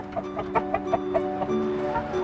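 Sussex hens and roosters, parents of newly hatched chicks, cluck in a series of short, close, repeated calls at an uneven rhythm, with a steady tonal hum underneath.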